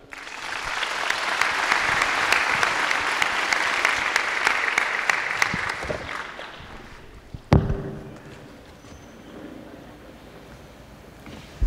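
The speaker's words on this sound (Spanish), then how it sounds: "Démosle un fuerte aplauso a este hermano." A crowd at a live religious debate event in Paraguay applauds loudly, a broad wash of clapping sustained for several seconds before tapering off, followed by a sharp knock and quieter room sound.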